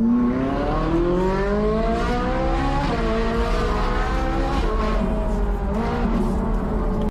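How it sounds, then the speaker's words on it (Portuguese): A Ferrari skids in the GTA RP video game, with a sustained engine drone and a wavering tire squeal that bend in pitch as the car slides, loud and continuous throughout. "Ele derrapou a Ferrari"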